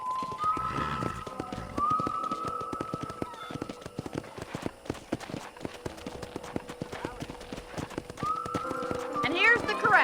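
Horses in a ranch corral in Red Dead Redemption Remastered on PC: steady hoof clip-clop runs throughout, with whinnies near the start and again near the end, all under ongoing talk.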